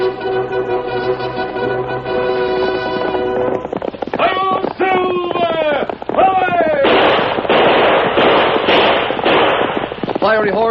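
Galloping horse hoofbeats and sharp bangs open a 1941 Lone Ranger radio broadcast, rapid and loud over swelling music, with a voice calling out.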